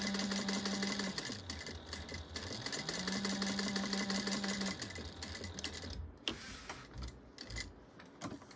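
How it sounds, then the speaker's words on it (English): A sewing machine top stitching a pocket on a bag at one-eighth inch, with backstitching: a steady mechanical whir that rises and falls in pitch across runs, followed by slower, uneven stitching clicks near the end. "I'm sewing this at 1/8 of an inch, making sure it's back stitched at the beginning and the end."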